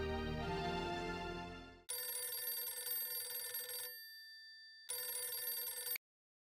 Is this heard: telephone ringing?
yes